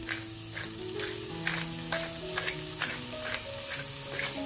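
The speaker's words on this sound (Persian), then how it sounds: "هویجم یه مقدار تفت میدم، ببینید اصلا روغن نداره." Carrots are sautéed in a pan with no oil, giving a moderate steady sizzle with repeated scraping stir strokes throughout and no voices.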